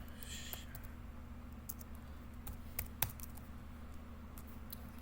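Faint keystrokes on a computer keyboard as a command is typed, with scattered taps and a couple of sharper key hits over a steady low hum.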